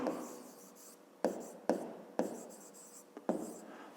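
A pen writes on paper during a fifth-grade math exercise, making close scratchy strokes in short bursts, each starting with a sharp tap as the pen touches down.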